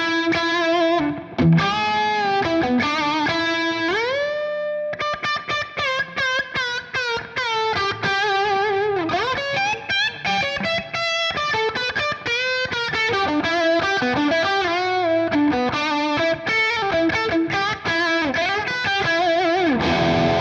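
Electric guitar plays a run of sustained notes and bends, heavily processed with distortion and modulation effects, loud and continuous.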